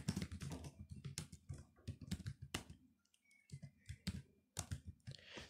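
Rapid clicking of a computer keyboard as someone types commands into the nano text editor in a terminal, in quick bursts with brief pauses, close and clear.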